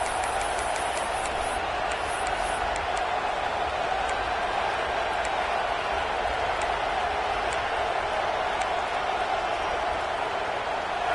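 Crowd at an Auburn football stadium roars on a third down, a continuous loud wash of cheering that holds steady throughout.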